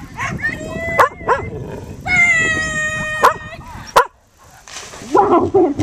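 A poodle barks and yips in sharp bursts close by, with whiny, high-pitched cries between the barks, and a person's voice talks over parts of it at an outdoor jumping event.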